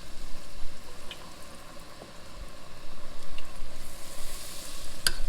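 Cheese curds deep frying in 350-degree oil give a steady, moderately loud broadband sizzle with faint crackles, brightening toward the end.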